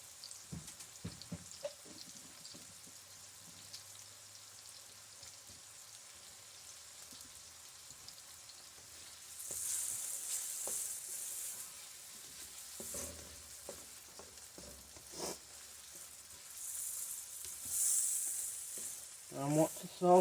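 Prosciutto, onions and minced garlic sautéing in a pan, a quiet crackle and scattered spatula clicks that swell into louder bursts of sizzle in the second half.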